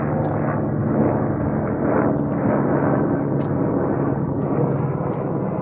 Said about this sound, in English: Police chopper.